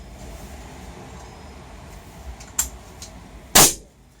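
A single sharp shot from a Hatsan AT44 L PCP air rifle, its tank not full, cracks out near the end, preceded by a fainter click over a low background hum.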